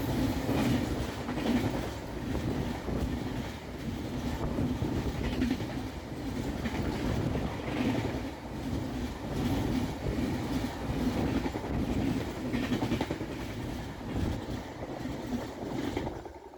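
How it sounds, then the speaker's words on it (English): Mandovi Express hauled by a VAP 7 electric locomotive rushing past toward Margaon, a steady loud rumble of rolling wagons with wind noise sustained throughout, no talk. "Here's the Mandovi Express rushing towards Margaon with a VAP 7 locomotive."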